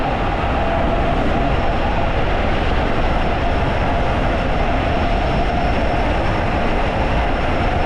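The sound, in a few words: 72v 5000w Enduro stealth bomber electric bike riding at half throttle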